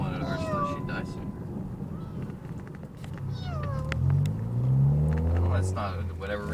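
Several kittens meow in short, rising cries over a steady low rumble, with the calls growing louder and denser toward the end while people talk nearby.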